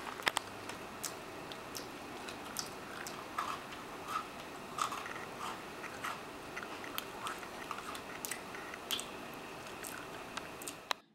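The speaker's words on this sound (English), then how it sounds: "I can't hear you over my chewing." Someone chews food loudly and close up, giving wet, squishy bites and clicking mouth sounds in an irregular rhythm over a faint background hiss, with no talking.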